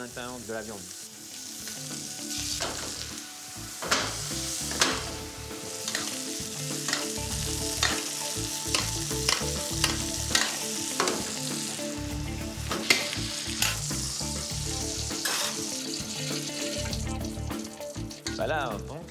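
A seasoned rib of beef sears in a pan in a restaurant kitchen, a loud, continuous sizzle with repeated clacks and scrapes of handling throughout, and brief bursts of talk in the background.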